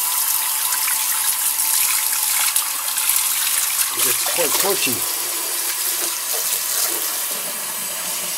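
Hot tap water runs steadily from a nearby heater to clean a Jacobs collet chuck part, a continuous broadband rush with a brief splashing burst midway, under occasional speech.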